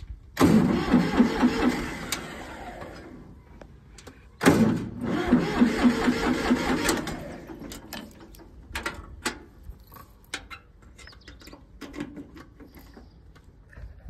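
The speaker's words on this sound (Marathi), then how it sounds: "स्प्लेंडरच्या किल्लीनं डायरेक्ट ट्रॅक्टर चालू केले" A tractor engine, switched on with a motorcycle key, cranks and sputters twice before catching, followed by uneven mechanical clicks and knocks as the motor runs, heard up close.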